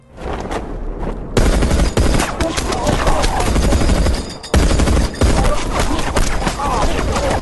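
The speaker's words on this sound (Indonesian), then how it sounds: "senapan Maxim. Sebuah senapan yang bisa menembakkan peluru dengan jumlah banyak dengan sekali tembak" Maxim machine gun firing in a film battle, loud sustained bursts of rapid automatic gunfire filling the whole stretch, broken by two brief pauses, with shouting voices mixed in.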